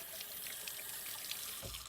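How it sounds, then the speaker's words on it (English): Hands rinsed under a running kitchen tap, a steady close rush of water into the sink for the whole stretch with a brief splash near the end. "Rinse off your hands. Wash them real good."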